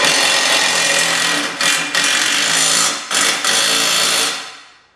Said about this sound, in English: we're going to take a 5-inch bit with the driver and drive these bolts right in